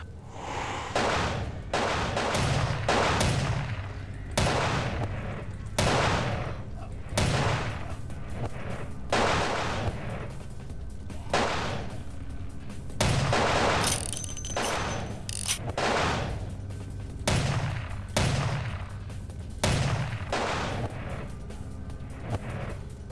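Gunfire in Vampire The Masquerade Bloodlines: loud, sharp shots repeat in irregular bursts over about twenty seconds, close and dominant above a low background rumble, with no talking.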